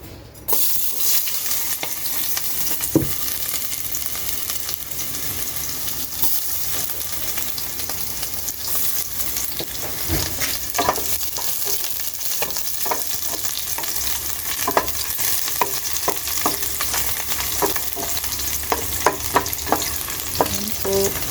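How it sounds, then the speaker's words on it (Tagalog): Boiled meat for kare-kare sautés in a hot pan, a steady, dense sizzle of frying with repeated scraping stirs and clinks across the stretch, no talking. "Gigisa ko na po siya ngayon."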